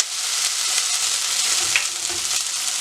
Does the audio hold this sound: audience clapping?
no